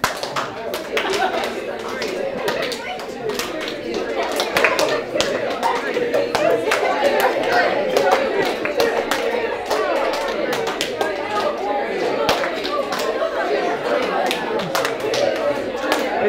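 New educators at a workshop clap in a counting game, scattered sharp hand claps popping out over constant group chatter and laughter, irregular and fairly close throughout.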